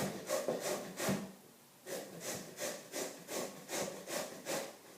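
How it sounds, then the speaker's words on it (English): Fresh farm produce is rubbed back and forth over a separate handheld grater. Steady rasping strokes repeat about twice a second, quiet and close, with a short pause partway through and no voices. "And it grates pretty nicely, and they look almost like little noodles, kind of like confetti."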